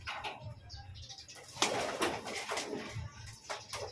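Racing pigeons coo softly nearby while wings flap in short bursts, with scattered chirps and some background talk.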